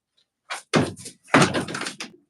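An indoor door thumps shut as a dog is let out of a room, with a series of firm bangs and knocks up close, the loudest near the middle, against otherwise quiet surroundings.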